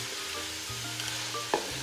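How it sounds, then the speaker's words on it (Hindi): Chicken sizzles in ghee with a low steady frying hiss and a brief scrape or clink of a stirring utensil, quiet and close, without speech. "अब हम इसमें ऐड कर देंगे चिकन जो हमारे पास घी है ना, इसमें इसको हम अच्छी तरह भून लेंगे"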